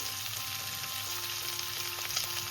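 Pumpkin frying in a pan with salt and green chillies added, a steady close sizzle that holds without a break and carries faint stirring scrapes.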